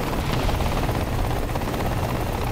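Helicopter rotor and engine drone from a tank combat video game, a steady loud whirring wash that fills the whole stretch with no talk over it.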